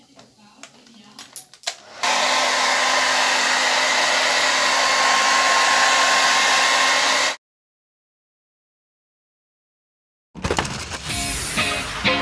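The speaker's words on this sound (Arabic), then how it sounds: "غادي نستعملو ان شاء الله الشيشوار باش غادي نبردو هاد الصباغة هادي" A hair dryer dries paint on an artwork. It roars loud and steady for about five seconds after some brief handling noises, cuts off into silence, then other clattering sounds follow.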